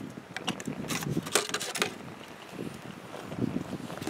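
Steady wind buffets the microphone outdoors, a rough rushing noise with gusty swells and occasional splashing-like texture.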